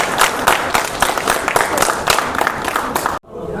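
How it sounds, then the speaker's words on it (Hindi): Crowd applause welcomes the audience at the opening of a Hindi news broadcast: a short, dense burst of many hands clapping with a loose rhythmic pulse, cut off abruptly just before the end. "बार तालियों के साथ आप सभी का स्वागत।"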